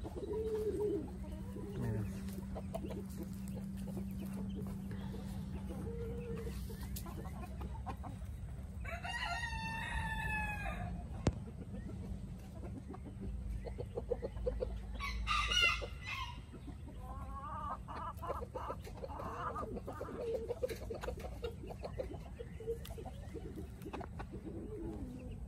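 Silkie hens clucking and softly calling while foraging with their chicks outdoors, with peeping bursts and a rooster-like call rising over a steady low hum, moderately near.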